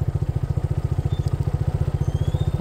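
A motorcycle labours up a rough, steep mountain road toward Keokradong in Bandarban, its engine thudding in a fast, even pulse, close and loud, with rattling clatter over the beat.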